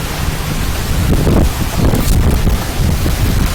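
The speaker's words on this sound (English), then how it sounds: "It's very windy today, so that's not good." Strong wind buffets the microphone near a waterfall at Paterson Falls, a loud, continuous rushing roar with gusting swells and no voices.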